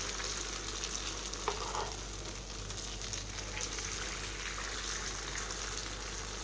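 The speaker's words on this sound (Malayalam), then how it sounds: "എണ്ണ നല്ലപോലെ ചൂടായി കഴിഞ്ഞാൽ ഓരോ കുഴിയിലും മുക്കാൽ ഭാഗത്തോളം മാത്രം മാവ് ഒഴിച്ചു കൊടുത്താൽ മതിയാവും" Steady, even sizzling of muttappam batter frying in hot oil in the wells of a pan, close by and continuous, with a faint clink partway through.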